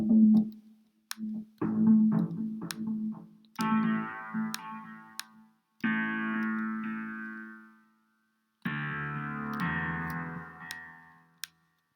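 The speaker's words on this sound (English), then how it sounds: "So I'm just testing out different sounds within this synth here." A series of synthesizer tones played one after another, starting with short plucky notes and moving to longer, bright sustained chords with gaps between them.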